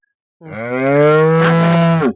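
A Holstein Friesian cow or calf gives one long, loud, close moo lasting nearly two seconds, with a rich harmonic tone that rises and then drops off at the end, heard alone with no talking.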